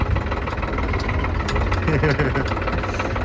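A tractor engine idles and chugs with a steady mid-range knock on a mountain road toward Chandratal, loud and close, with people talking over it.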